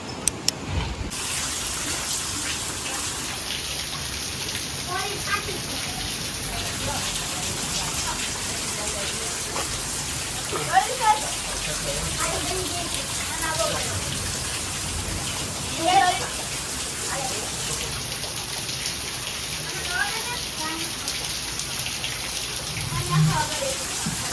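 Heavy rain pours steadily through a night windstorm, a dense continuous hiss with occasional louder gusts and thumps, while people talk intermittently over it.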